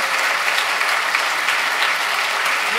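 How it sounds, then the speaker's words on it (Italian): An audience at a Basta Euro Tour rally in Milan applauds a professor with loud, even clapping that stays steady and close throughout. "Applauso eh."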